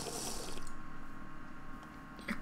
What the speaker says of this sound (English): I'm gonna go fill my water up real quick.